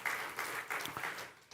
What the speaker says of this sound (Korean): 맞다고 생각하면 박수 한번 쳐봐